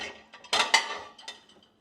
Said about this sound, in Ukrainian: Зробила посуд, помила